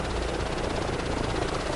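A helicopter in Microsoft Flight Simulator 2024 keeps up a loud, continuous rotor thrum with a fast, even beat and a dense engine roar behind it, and no one speaks.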